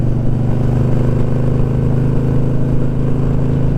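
A Harley-Davidson Sportster cafe racer motorcycle cruising near 45 mph gives off a loud, continuous, throbbing engine drone with steady pulsing harmonics and no talk.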